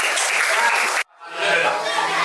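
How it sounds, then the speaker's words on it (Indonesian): A classroom of students bursts into loud, dense applause, which cuts off abruptly after about a second, then resumes as a rougher crowd noise mixed with chatter. "kasih tepuk tangan dulu semuanya."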